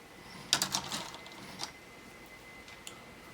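Sharp little snips and clicks as plastic parts of a 1/48 Halberstadt CL.IV model kit are cut free from their attachment points, a quick cluster of faint, close ticks followed by a couple of isolated snaps in a quiet room.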